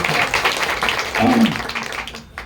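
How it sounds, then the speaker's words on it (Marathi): Applause at a kirtan honouring Krishna Maharaj, a crowd clapping in a dense, uneven patter that swells, then thins and fades, with voices mixed in. "एकदा टाळ्या वाजून महाराजांचं"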